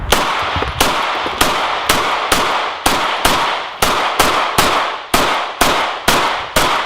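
A gun is fired repeatedly at a Samsung Galaxy S8 clone phone, about a dozen sharp, loud, close reports in a steady, rapid rhythm, each with a brief ringing tail, with no talking.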